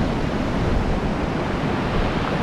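Ocean waves and wind roar steadily on the coast at Ross Bay on the Ring of Kerry in Ireland, a loud, continuous wash of surf with wind buffeting the microphone and no voices.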